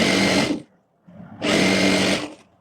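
Two bursts of a sewing machine running at speed while stitching the sides of a summer co-ord garment, loud and close, separated by a short pause, no talk.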